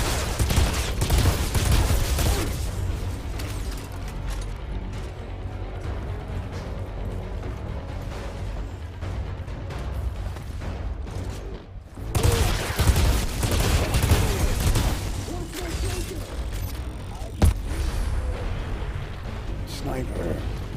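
Dense, continuous gunfire from a handgun in the Outriders shooter game, rapid shots layered with explosions and game noise throughout, loud and close, with a brief lull near the middle before firing resumes.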